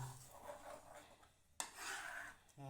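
Gram flour batter with raw milk is stirred in a pan, a soft continuous scraping and rubbing that carries on steadily, with one sharper knock of the spoon partway through. It sits close and fairly quiet.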